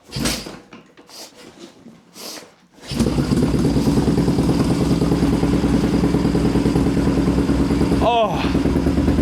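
A few clatters and knocks, then a Yamaha XS650 motorcycle engine with a stainless exhaust starts and settles into a loud, steady idle with a thumping rumble, close by.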